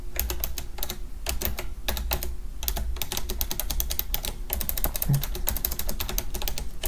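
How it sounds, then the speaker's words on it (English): Rapid clacky keystrokes on a mechanical keyboard, steady bursts of typing with brief pauses, close and clear over a low background hum. "the sound on my mechanical keyboard wasn't too bad, so I'm not gonna stop typing to talk anymore"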